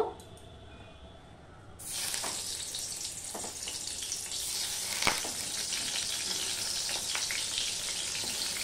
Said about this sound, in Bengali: এখানে যে বেগুনগুলো আমি ম্যারিনেট করে রেখে দিয়েছিলাম সেগুলো আমি এবার ভেজে নেব।